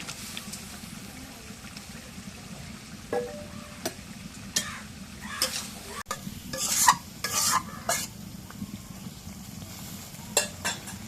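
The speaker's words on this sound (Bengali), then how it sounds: "এখন মশলা কষানো আগে মাছ দিয়ে দিই" Small pond fish are dropped into a pan of frying paste made from onion, garlic and cumin, then stirred. A low sizzle runs underneath, broken by irregular scrapes and sharp clinks from the spoon against the pan.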